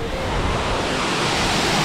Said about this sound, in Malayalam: നമ്മളെ കാരക്കുണ്ട് വെള്ളച്ചാട്ടം കണ്ടോ